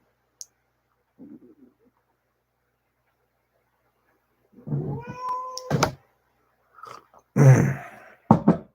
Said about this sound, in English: That's my cat squalling around in the background there.